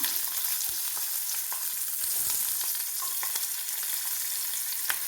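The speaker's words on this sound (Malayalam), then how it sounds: "വെളുത്തുള്ളിയും ഒരുമിച്ച് വേണേലും വറുത്ത് കോരാം" Garlic frying in hot oil in a pan gives a steady, close hiss of sizzling with small pops and occasional stirring clicks, no voices.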